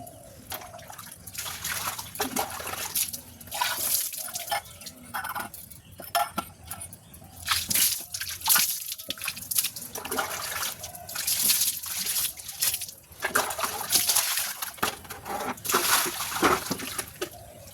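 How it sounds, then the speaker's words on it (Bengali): Water splashing and trickling over the base of a tulsi platform as it is washed in the morning, an uneven run of pouring, sloshing and scrubbing bursts, close and fairly loud throughout with no speech. "তুলসী মঞ্চটা নিচটা একটু ধুয়ে নেবো"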